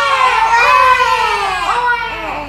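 Children imitate a crying baby together, their voices rising and falling in loud, wavering wails that last a couple of seconds and sound close by.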